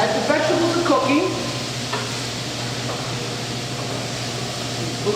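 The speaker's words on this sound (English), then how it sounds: "As the vegetables are cooking," Vegetables cooking in a pan after chicken was browned, a soft steady sizzle with a few stirring scrapes at the start, under a constant background hum; no voices.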